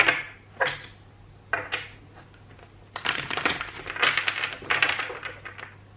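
Tarot cards given a quick shuffle up close, a few separate riffling bursts early on followed by a denser run of rapid crisp card flutters and slaps in the second half.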